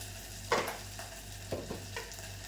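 Eggplant masala mixture being stirred with chutney in a pan, a few scraping strokes with low sizzling underneath, moderately quiet and without talk.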